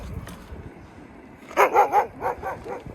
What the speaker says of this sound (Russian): А, гавкает, облаивает.